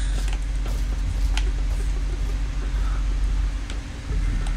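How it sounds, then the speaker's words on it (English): A door creaks open in the Roblox game Doors, giving a drawn-out, grinding mechanical creak over a dense, noisy background, fairly loud and close, with no talking. "I opened the door right in front of him"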